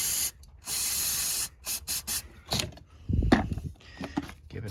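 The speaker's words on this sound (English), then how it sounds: "we're gonna give it a quick spray of brake clean" Several short bursts of hissing brake cleaner spray from an aerosol can, close up, with brief gaps, onto a 2006-2009 VW Rabbit/Jetta shift linkage, followed by some mechanical clinks and handling noises.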